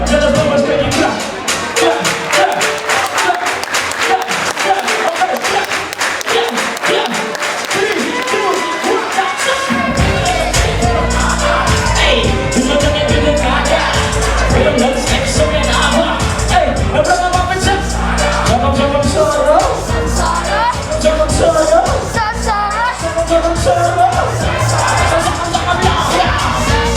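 A crowd at a Golden Jubilee celebration cheering, whooping and shouting continuously, loud and busy, with a pounding beat entering partway through.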